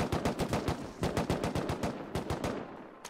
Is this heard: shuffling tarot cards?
no